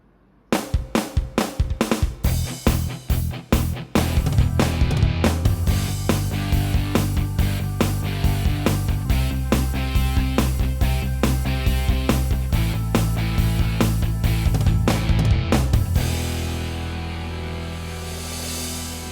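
An electronic keyboard plays a driving rock rhythm with punchy drums and bass, starting with sharp hits then settling into a steady groove before stopping.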